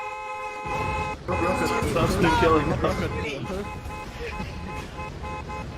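Vehicle horns honk repeatedly in the D.R.O.N.E. video game, loud sustained toots layered over one another, with people talking over the honking.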